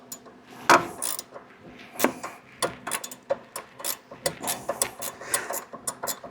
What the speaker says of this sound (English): Get my ratchet wrench on there.